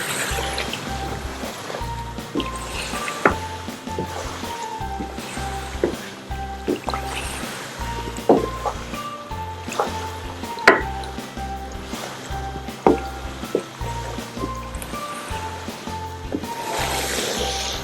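Chicken karahi is stirred and fried in a pan, giving regular wet squishing and sizzling pulses with scattered clinks, steady and close.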